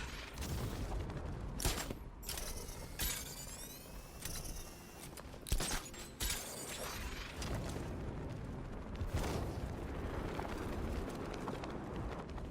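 Explosion in the video game Batman Arkham Knight, a loud booming burst amid dense game noise, with sharp cracks, whooshes and rattling mechanisms continuing throughout.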